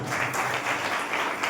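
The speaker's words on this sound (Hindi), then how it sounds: "एक तुलसी के लिए एक बार शानदार ताली" An audience claps together in a dense, even burst of applause that stays steady and fairly loud throughout, with no voices on top.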